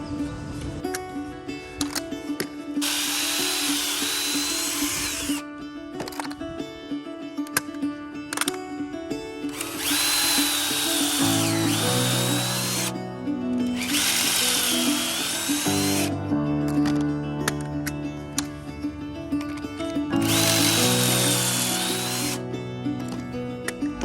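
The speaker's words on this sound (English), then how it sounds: "I pre-drilled all of these screws into each one of the pilot holes" A power drill drives screws into pocket holes while building a garden gate from cattle panel fencing, with four loud whirring bursts of several seconds each separated by brief pauses, the motor pitch shifting as each screw seats.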